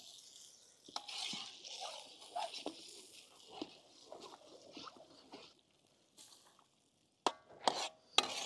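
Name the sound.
mixing 300 beaten eggs in a pan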